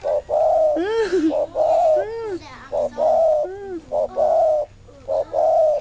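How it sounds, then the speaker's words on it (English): A bird sings in an odd, strange voice, repeating cooing, dove-like phrases with swooping whistled notes in a steady rhythm, fairly close, with a few soft voices in the background. "A strange sound. Is it sing a song?"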